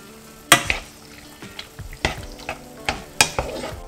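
Spoon stirring a turmeric and coconut milk mixture in a cup or bowl, a series of sharp clinks and scrapes at irregular intervals, close up and alone.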